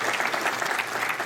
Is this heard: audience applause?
yes